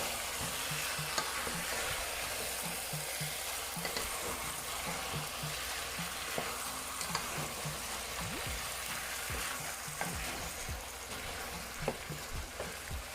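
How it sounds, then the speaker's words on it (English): Curry chicken fries in a pot with a steady, close sizzle like light rain, broken by repeated scraping and knocking of a spoon stirring against the pot, with no voices. "And you want to continue to stir it."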